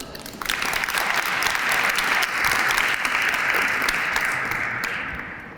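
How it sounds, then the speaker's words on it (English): Audience at a Black History Month closing ceremony in Cleveland, Ohio, breaking into a sustained round of applause, a dense steady wash of many hands that swells quickly and fades slightly toward the end. "Round of applause, please."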